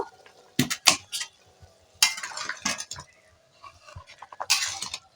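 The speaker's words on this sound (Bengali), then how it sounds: "এবারে ঢাকাটা খুলে দেখে নেব" Metal lid clanks and scrapes off a cooking pot of broccoli and potatoes, a few sharp clinks and rattles with soft bubbling and shuffling between them, close and fairly loud.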